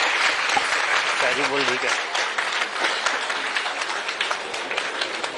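An audience at a ceremony honouring meritorious 10th and 12th grade students, where Chief Minister Bhupesh Baghel presents the awards, breaks into sustained, dense applause from many hands, with a brief voice or tone rising through it early on.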